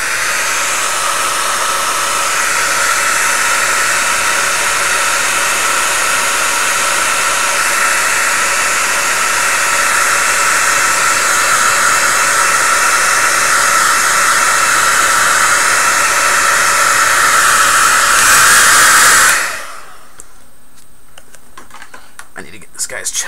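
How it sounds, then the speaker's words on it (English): Hairdryer blowing at a loud, steady broadband roar for about nineteen seconds, then switching off and leaving near silence. "I want to pull out my hairdryer again."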